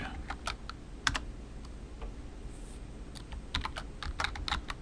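Close, quiet typing on a computer keyboard, a loose run of sharp key clicks in uneven bursts over faint background hum, with no talking.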